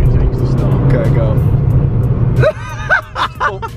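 Engine of an old project car drones loud and close as it pulls up to about 30 mph, then cuts off abruptly for hard braking, followed by a voice speaking inside the cabin.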